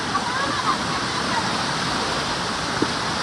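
A hidden waterfall near Dombivli and Kalyan rushes in a loud, steady, close roar that fills the whole stretch, with a few faint voices underneath.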